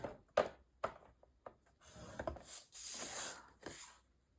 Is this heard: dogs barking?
no